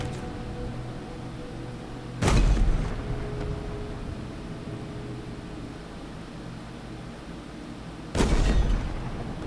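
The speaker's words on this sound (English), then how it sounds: "I'm just sitting here wasting a couple of minutes just kind of idly firing at people on the other side there" Two heavy, booming shots ring out several seconds apart in Halo Infinite's campaign mission The Sequence, each a loud broadband blast over a steady hissing background.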